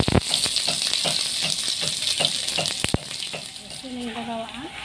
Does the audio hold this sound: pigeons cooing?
no